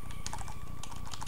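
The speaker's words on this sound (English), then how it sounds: "playing it like I'm trying to play a fighting game using a keyboard" Computer keyboard keys are pressed rapidly and irregularly while a fighting-style X-Men Legends video game is played, dense clacking close up over a steady low game hum.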